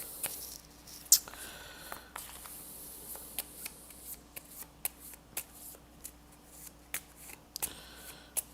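A deck of Cartographers board game cards riffled several times in quick succession, crisp fluttering bursts with short pauses between, close and fairly quiet.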